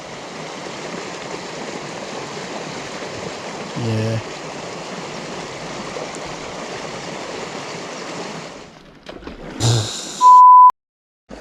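A waterfall and stream at a fly fishery on Dartmoor give a steady, soft rushing flow that fades near the end, where someone briefly speaks and a short electronic beep sounds.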